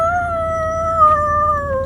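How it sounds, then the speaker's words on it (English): A plastic kombucha bottle lid lets out trapped gas as a steady, tonal, whistling whine, nearly two seconds long and close, sounding much like a howling dog, with a slight dip in pitch near the end. "The gas comes out of these lids and they go"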